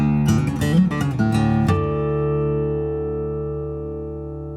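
A Martin SC-10e acoustic-electric guitar sounds a quick run of plucked notes, then a final strummed chord that rings out and slowly fades, with no voice.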